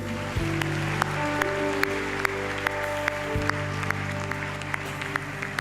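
A church congregation clapping for Jesus during worship, a regular train of sharp claps repeating over sustained organ-like chords and a low droning backing.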